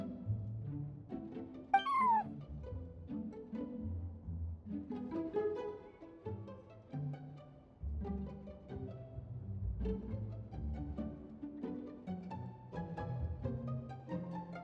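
A cat meows in a video game: one sharp, high meow near the start, then a continuous musical score carries on steadily without a voice.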